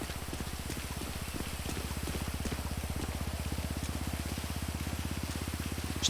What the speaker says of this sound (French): pourquoi maintenant il pleut?